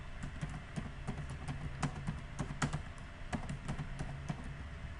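Quiet, rapid keystrokes on a computer keyboard, with irregular clicks and occasional sharper taps in a continuous run of typing and no voices.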